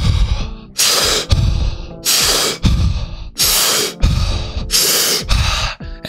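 Heavy, rhythmic breathing while running: four loud, rough exhalations alternating with quicker gasping inhales, close up and steady, with no talking.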